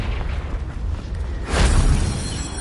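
A Confringo spell goes off in Hogwarts Legacy, a fiery blast whose deep boom swells after a low rumbling lead-in and then lingers loudly before trailing off.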